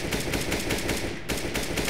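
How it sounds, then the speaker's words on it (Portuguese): Rapid gunfire at a door in Counter-Strike on the Nuke map, a loud, quick rhythmic burst of repeated shots with a brief gap before firing resumes. "Dá um tiro aqui, ó."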